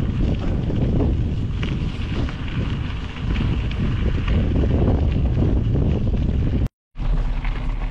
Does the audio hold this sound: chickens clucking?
no